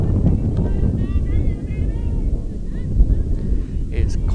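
Strong wind buffets the microphone at an outdoor high school softball game, a loud, steady rumbling roar that runs the whole length with no pauses, partly masking a faint distant voice.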